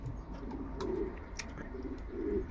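Pigeons coo softly in a loft holding breeding birds and many young racing pigeons, with three low throaty coo phrases rising over a steady background hum and faint chirps.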